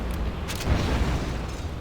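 A few muffled, booming blasts thud in quick succession over a low rumble, rapid quad cannon fire in Command & Conquer: Generals Zero Hour.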